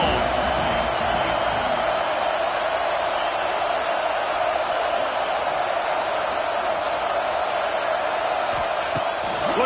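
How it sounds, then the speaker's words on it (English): Steady roar of a packed football stadium crowd at a USC vs Nebraska game, a dense, continuous wash of cheering that holds at one level from start to finish. "This crowd ready to make its presence known."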